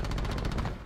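Rapid automatic gunfire from a Call of Duty: Black Ops 4 tournament match, a dense continuous burst of shots that fills the whole moment at close range before tapering slightly at the end.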